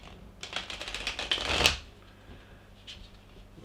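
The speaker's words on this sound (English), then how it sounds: "These cards are a bit stiff because they're new. Let's give them another shuffle" New, stiff tarot cards being shuffled by hand in a quiet room, a close, dense riffling burst that swells for about a second and a half, snaps off, then gives way to faint rustling.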